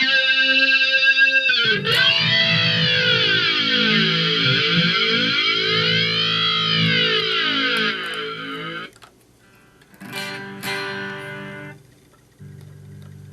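A guitar run through the octave effect of a Boss ME-25 multi-effects unit rings out in sustained, bending, doubled tones that swell and waver, then break off into shorter strummed chords and a brief lower note, with no talking.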